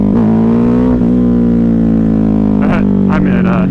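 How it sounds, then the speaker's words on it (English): A Ducati Hypermotard 950 motorcycle engine roars at full throttle, a loud, steady high-revving drone close to the mic with rising pitch sweeps near the end as the revs climb. "I am whacking it full throttle."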